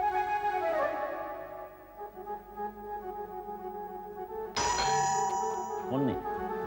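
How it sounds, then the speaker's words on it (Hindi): Bright electronic doorbell chimes ring twice, a multi-tone melody fading out before sounding again, with a voice briefly underneath. "फोन नहीं, डोरबेल।"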